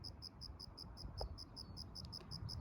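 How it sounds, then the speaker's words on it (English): A lone cricket chirps outdoors during a nature walk in Palos Verdes, a steady, evenly spaced run of high pulses, faint against a quiet background. "Lonely cricket."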